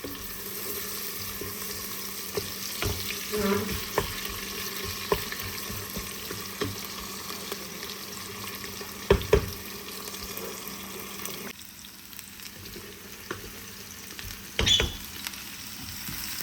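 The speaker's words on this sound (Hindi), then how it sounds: "अभी थोड़ा सा ऑयल गर्म हो गया था, उसके अंदर हमने एक हरी मिर्ची डाल दी है" Green chili and onions frying in hot oil in a pan for dal tadka, a steady low sizzle with occasional louder crackles and stirring clinks, faint and without talk.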